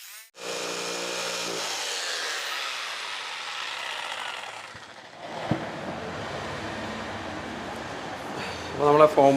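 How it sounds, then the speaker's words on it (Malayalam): Jigsaw cutting a round mirror board, a sustained buzzing motor drone lasting several seconds that shifts in pitch midway, then ends with a few short clattering knocks. "അതിനുശേഷം ജിഗ്സോട്ടിട്ടാണ് കട്ട് ചെയ്യുന്നത്"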